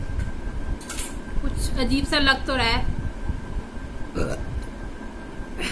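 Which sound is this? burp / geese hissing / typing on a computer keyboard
burp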